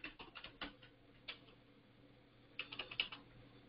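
Keys clatter on a computer keyboard in short bursts of quick, quiet taps, with a pause in the middle before another flurry of keystrokes.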